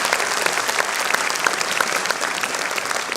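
Audience applause fills an anniversary celebration hall, dense steady clapping from a large crowd, loud and continuous throughout with no talk over it.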